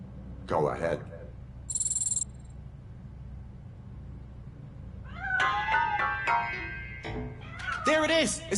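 A cat meows in the video game RoboCop: Rogue City, hiding inside a piano: a few distinct meows, one early and a cluster of louder, drawn-out cries toward the end, over a quiet bed of crickets.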